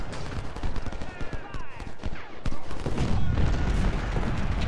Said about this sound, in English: Oh, that is so much artillery.